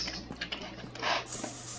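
Spray paint hissing in the video game SuchArt, short airy bursts with a brief stronger spray near the end, faint and close.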